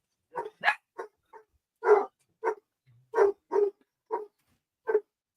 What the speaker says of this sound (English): When you have 2 or 3 dogs, it can get kind of noisy too.